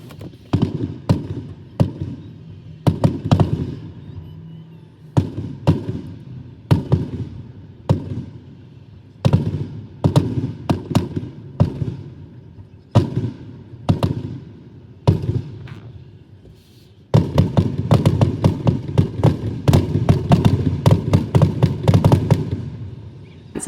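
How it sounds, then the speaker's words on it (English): An evening holiday fireworks show booms outdoors in irregular sharp bursts, some echoing, then builds into a dense, continuous crackling barrage near the end. "let's go check out the fireworks, we just head out after dinner and we go watch the fireworks"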